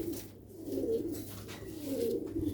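Sialkoti silver roof pigeons cooing close by, two soft rolling coos swelling and fading, with no talking.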